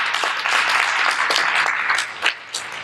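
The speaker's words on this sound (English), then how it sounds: "Let's give her a round of applause." A round of applause from an audience at a youth voter education conference in a church hall, dense steady clapping that fades slightly toward the end.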